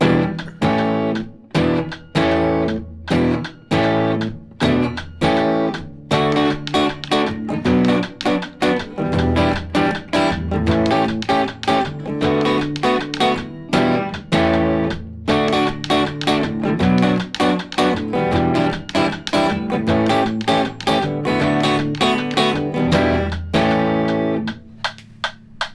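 Electric guitar plays the intro and refrain of a song with a slightly driven, effected tone, busy picked chords and single notes in steady time, close and continuous throughout with no talking.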